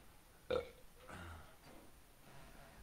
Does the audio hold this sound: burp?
yes